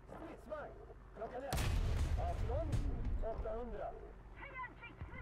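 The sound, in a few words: K9 Thunder 155mm howitzer firing high explosive, video game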